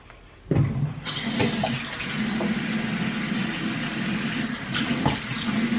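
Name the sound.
water running from tap while washing face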